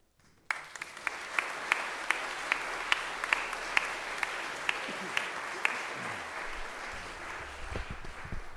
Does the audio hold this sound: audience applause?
yes